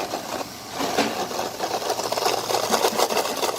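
A homemade toy washing machine built as a kids' craft runs with a small motor, giving a steady close buzzing whir with a rapid rattling pulse that grows slightly louder and rougher over a few seconds.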